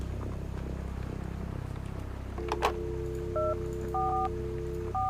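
Telephone keypad tones dialing the police, a short run of distinct beeps following a longer steady tone, close and clear over a low background hum, no talking.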